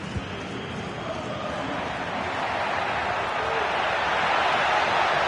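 A dense stadium crowd in a football video game roars continuously, a broad wash of cheering that swells slightly louder toward the end, with no clear individual voices.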